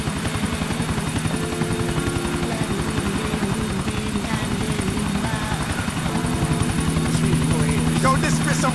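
A helicopter in Grand Theft Auto IV keeps up a continuous, loud rotor chop and engine drone from inside the cabin, while characters talk over the noise.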